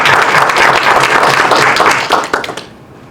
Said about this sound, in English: we have to be able to applaud that and clap.